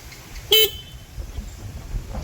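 A single short car horn toot, close and loud, over low rumbling traffic and road noise.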